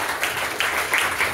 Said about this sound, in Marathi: एकदा जोरदार टाळ्या त्यांच्यासाठी सुद्धा.